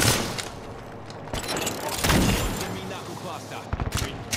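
Video game gunfire from a battle-royale style match crackles in short bursts and single cracks, fairly close and loud, scattered across a few seconds with some background game noise.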